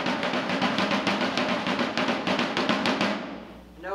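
A colonial military drum beats the assembly call in rapid, close rolls and strokes with a steady rhythm, loud and alone, then stops abruptly near the end.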